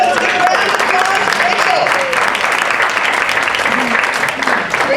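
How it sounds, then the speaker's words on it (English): A crowd claps loudly and continuously for an honoree at a Kytherian Society of California festival luncheon, with cheering voices mixed into the dense applause throughout. "Let's give a round of applause"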